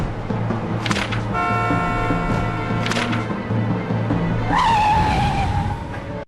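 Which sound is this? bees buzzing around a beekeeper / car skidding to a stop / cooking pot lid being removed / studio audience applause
car skidding to a stop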